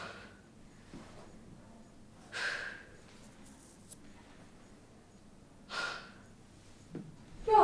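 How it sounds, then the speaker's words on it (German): A patient breathes deeply through an open mouth during a stethoscope exam, producing several separate breath sounds spaced a few seconds apart, quiet and close, with faint rustling between. "jetzt mal fest atmen mit offenem Mund"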